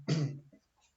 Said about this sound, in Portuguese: Perdão da tosse aí